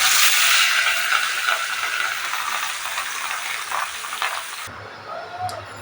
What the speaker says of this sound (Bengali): মাছগুলো তাহলে ভেজে নিই তাড়াতাড়ি, ঝটপট করে,